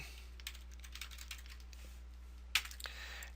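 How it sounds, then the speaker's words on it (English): Brief typing on a computer keyboard, a loose run of soft clicks and taps ending in one sharper keystroke, quiet and close over a low electrical hum with nobody speaking. "I'm going to go ahead and type page navigation"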